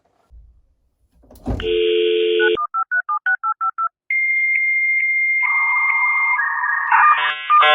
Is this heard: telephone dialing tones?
yes